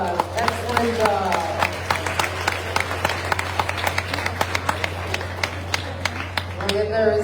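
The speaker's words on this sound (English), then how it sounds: "Let's give him a round of applause." A fair crowd at the Cumberland Fair machine pull applauds a horse pulling team with steady, dense clapping throughout, while a voice talks over it at the start and again near the end.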